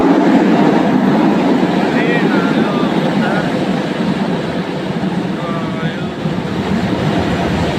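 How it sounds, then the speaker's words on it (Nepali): A train rumbles steadily as it arrives through a loud, noisy station or track area, with faint squeals and clatter, continuous throughout. "अब यता ट्रेन आयो"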